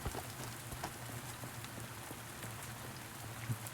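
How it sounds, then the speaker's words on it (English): Steady rain patters in the Shift 87 video game, a dense continuous hiss with scattered drop taps and a low steady hum underneath, no voices. "It's raining."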